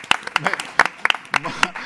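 A studio audience claps on a Spanish television show, with sparse, uneven hand claps close by that come in short scattered bursts.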